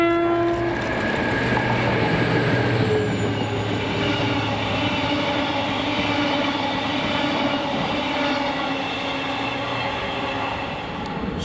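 British Rail locomotive 73966 hauls a freight move past Greenfalls in Scotland, giving a loud, sustained rumble with a horn tone and rail clatter throughout, close by and steady.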